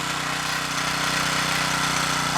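A Pocket Rocket KTX pocket bike's small pull-start engine runs loud and close in a steady, buzzing drone with an even vibrating pulse, alone with no voices.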